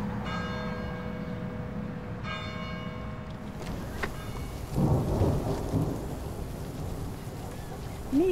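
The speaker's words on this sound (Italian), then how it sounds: "Mila, ti sbrighi che sta piovendo." Rain falling steadily outdoors with a loud roll of thunder midway, a church bell ringing earlier in the scene, and a voice speaking briefly near the end.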